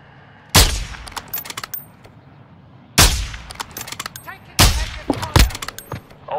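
Three sharp bursts of video game gunfire, each a loud crack followed by rapid shots and metallic pings, spaced a couple of seconds apart with quieter gaps between.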